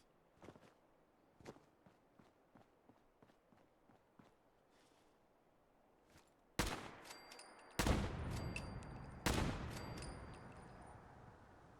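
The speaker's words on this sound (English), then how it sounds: "Now, if I shoot at them from above" Gunfire in Fallout 4, shot from above: three loud, sharp bursts in the second half, each with ringing tonal tails, after a quieter stretch of light footsteps and faint clicks.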